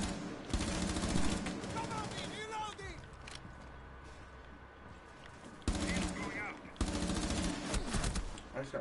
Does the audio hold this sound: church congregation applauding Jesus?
no